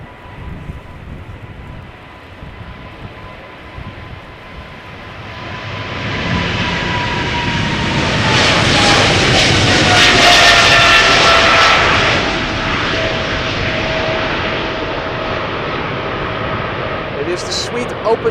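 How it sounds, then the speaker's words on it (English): A KLM Boeing 777-300 with GE90 engines takes off at Schiphol, its jet roar building from a distance to a loud, rumbling peak as it passes, then slowly fading away. "777-300 coming this way to Nairobi in Kenya."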